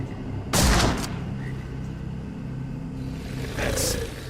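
Rifle fire in the video game Sherlock Holmes: The Awakened, with a loud sharp shot near the start, a second burst a few seconds later and a low rumbling game ambience between them.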